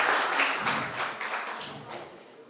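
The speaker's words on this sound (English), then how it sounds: "give him a big round of applause for winning the prize" Applause for a lucky draw prize winner at a Honda dealership event, a short burst of scattered clapping from a small crowd that slowly fades.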